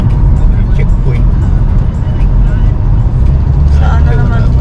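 Road traffic on busy Doha streets rumbles continuously, with low engine drone and passing vehicles close by, while people talk inside a car over the steady noise.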